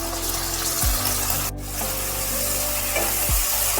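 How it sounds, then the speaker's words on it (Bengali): Chopped eggplant pieces fry in hot oil with five-spice seeds and green chili, giving a steady close sizzle broken by a few stirring scrapes, with no voices. "বেগুনগুলো তেলের মধ্যে ভালোভাবে ভাজতে হবে।"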